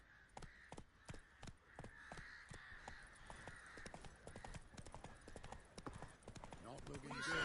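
Horse hooves clip-clop in a steady, even rhythm on a path in The Witcher 3, with a constant bright background tone and an occasional distant bird call; the hoofbeats stay near and moderately loud, with a voice briefly heard.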